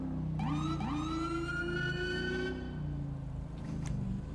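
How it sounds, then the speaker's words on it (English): Police siren from a trooper's car in a GTA roleplay game, a loud rising wail that sweeps up and holds, repeating over a low engine rumble before fading out. "I liked these sirens for a time, but now the rumbling, I can barely hear it."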